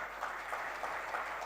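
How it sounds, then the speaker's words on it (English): An audience at an awards ceremony applauds steadily, with dense continuous clapping at moderate distance and no talking over it. "Have a round of applause for our nominees"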